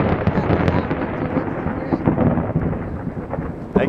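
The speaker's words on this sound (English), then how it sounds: "Thunder Storm" Thunder rumbles and cracks through a thunderstorm, loud and continuous with rain spattering close by, the rolling booms swelling over the whole stretch with no talk.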